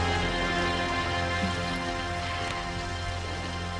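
Steady rain falls in a constant dense hiss with no pauses, moderately loud and even, mixed with a faint low hum underneath.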